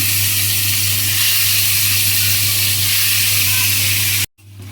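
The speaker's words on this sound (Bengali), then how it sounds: "এক রাউন্ডের মাছ ভাজা শেষ, আরেক রাউন্ডের মাছ ভাজা দিয়ে দিলাম।" Fish frying in hot oil in a home kitchen, a loud steady sizzling hiss with a low hum underneath that runs unbroken and then cuts off abruptly near the end.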